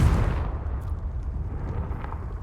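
A Confringo explosion spell in Hogwarts Legacy, a loud deep booming blast with a rumbling tail that slowly fades.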